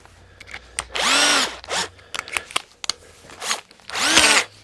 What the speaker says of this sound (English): now I can put the screws in